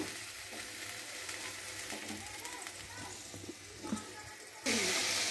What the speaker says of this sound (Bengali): আমি কড়াটা জেলে দিয়ে তেলটা গরম হয়ে গিয়েছে, এখানে একটু আদা রসুন দিয়ে দিয়েছি